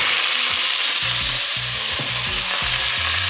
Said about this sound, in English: we're gonna add our meat. And what we're gonna use today is a turkey Italian sausage